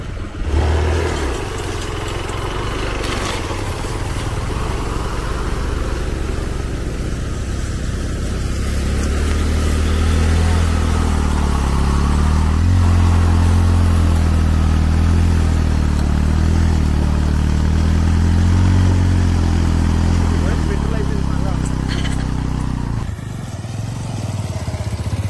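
Motorcycle ridden off-road along rough village tracks near Kotna, engine droning steadily and loud with low rumble and clatter throughout, no talk, easing off near the end.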